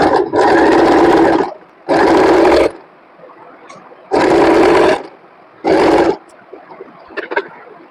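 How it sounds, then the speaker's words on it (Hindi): A sewing machine stitching an open neck placket runs in four loud, steady bursts separated by short pauses, with faint handling noises in between. "सिलना शुरू करते हैं।"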